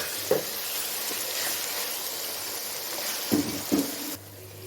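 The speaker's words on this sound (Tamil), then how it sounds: "இப்போ வந்து கேரட்டு பீன்ஸு பட்டாணி இதெல்லாம் நல்லா வதங்கிடுச்சு" Carrots, beans and peas sautéing in a pan for ghee-rich samba rava kichdi give a steady, moderate sizzle, broken by a few soft stirring knocks near the end before the frying hiss fades lower.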